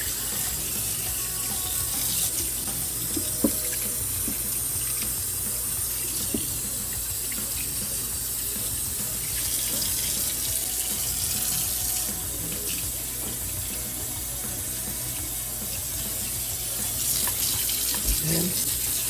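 Warm water running steadily from a tap into a sink while a paint brush is rinsed clean, a constant close rushing splash with slight shifts as the bristles move under the stream, no talking.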